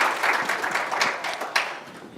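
An audience gives a short, steady round of applause at the close of a doctor's lecture, with many hands clapping together at moderate loudness and no voices over it.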